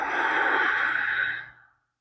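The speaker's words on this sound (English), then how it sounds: "Inhaling fully, filling all the way up. And full exhale." A full yoga exhale, one long breathy sigh held steady close to the ear for over a second before tapering off into silence.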